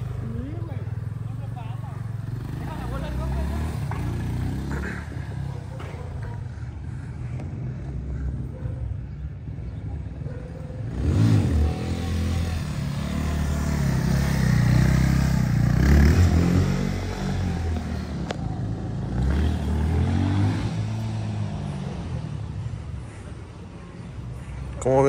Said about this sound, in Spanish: obviamente pues pasan muchos carros, güey.